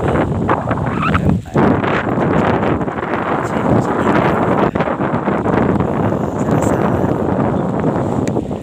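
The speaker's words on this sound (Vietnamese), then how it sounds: "Đây nhá mọi người, trời rất là mưa. Gió ra to nữa." Strong wind with rain on a mountain trail, a loud continuous rushing roar buffeting the microphone for the whole stretch, with no clear voices over it.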